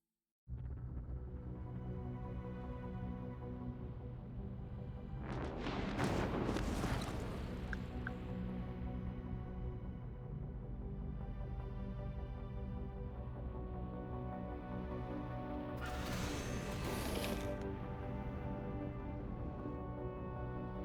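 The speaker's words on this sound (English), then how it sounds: "Looks like they're using torpedoes, and we're using guns." A space battle in Endless Space 2 with torpedoes and guns firing: a low, steady rumbling bed broken by two loud booming bursts of weapon fire a few seconds long, with no talking.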